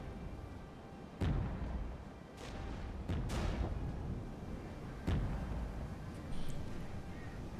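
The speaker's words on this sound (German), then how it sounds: "Wo schießt denn der Mörser hin?" Mortar and artillery fire in the war game Regiments, heard as several sharp booming blasts at irregular intervals over a constant rumbling battlefield background, loud and fairly close.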